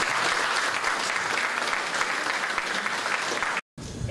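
An audience at a local-history lecture applauds in a dense, even burst of clapping that carries on for over three seconds before a brief cut.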